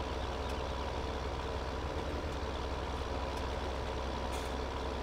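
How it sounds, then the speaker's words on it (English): Tractor engine in Farming Simulator 17 heading to fields near a biogas plant, a constant loud diesel rumble running alone and unchanging throughout. "heading down to the fields by the biogas plant here with our tractor"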